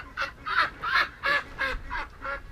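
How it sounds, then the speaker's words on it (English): A duck quacks repeatedly at close range, seven raspy calls in a steady rhythm over faint background noise. "Oh no, a duck has escaped."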